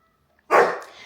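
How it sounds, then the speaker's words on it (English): A dog barks once at close range, a single loud, rough bark that trails off into a short tail, with nobody talking. "barking at me because he's mad"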